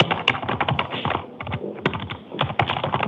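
A computer keyboard is typed on in quick, uneven bursts of close, crisp clicks with brief pauses between runs. No speech is heard.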